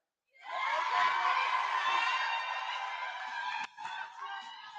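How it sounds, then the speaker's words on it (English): A pageant audience cheers for contestant number 11 after her speech: a sudden burst of loud, high-pitched cheering and whooping that holds steady and then briefly dips before carrying on. "Please give a warm round of applause for contestant number 11"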